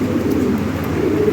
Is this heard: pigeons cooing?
yes